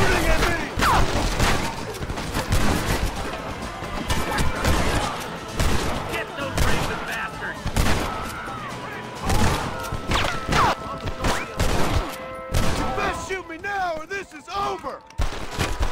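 Sustained gunfire in the Western video game Red Dead Redemption, with dense, overlapping shots and rapid bursts continuing through the whole stretch, while voices shout over the battle.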